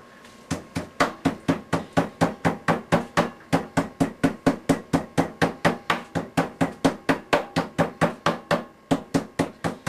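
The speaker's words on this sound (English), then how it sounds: "take my meat tenderizer and pound it out" A meat tenderizer pounds a pork cutlet wrapped in plastic, around thirty evenly spaced thuds in a quick steady rhythm, close and clear with nothing else behind them.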